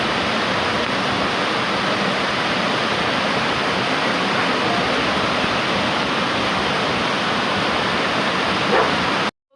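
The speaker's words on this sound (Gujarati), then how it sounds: "જો વરસાદ ઠમઠમ છે" Heavy rain pours steadily over a farm field, a dense, loud, unbroken hiss that fills the whole stretch with no voices.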